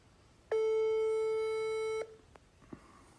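A single loud, steady telephone call tone lasts about a second and a half while a call is being placed, followed by faint clicks and background hush.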